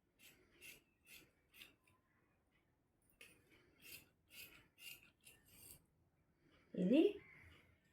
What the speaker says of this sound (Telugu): చూడండి నేను ఎలా కట్ చేస్తున్నాను